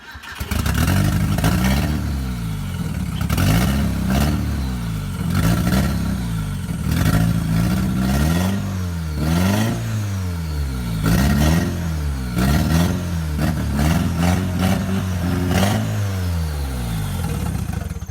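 A rebuilt Nissan CA18DET turbo four-cylinder engine in a drift car being started, then revved repeatedly, rising and falling in steady bursts, loud and close, with no talking.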